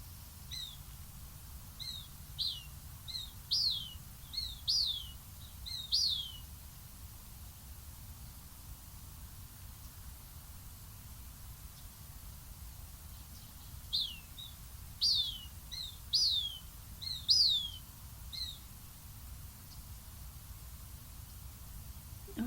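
Cooper's hawk nestlings call from a nest in Vancouver, giving two clustered bursts of high, thin, rising squeals and chirps over steady broadband background hiss, mid-distance and moderately clear, with a long quiet gap between the bursts.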